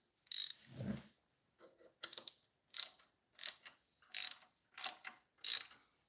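A ratchet wrench with an extension and 6 mm bit turning clutch bolts on a Focus ST: about eight bursts of quick clicking, evenly spaced, close and clear, with no voice.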